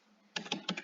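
A computer keyboard is typed on in four quick, crisp keystrokes bunched into a short burst after a quiet pause, close and faint, with no talking.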